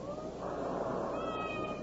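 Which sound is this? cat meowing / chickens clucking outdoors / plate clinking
cat meowing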